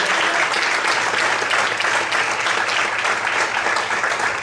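A church congregation applauding in praise during a service, dense continuous clapping at a steady loud level for the whole stretch, with no speech over it.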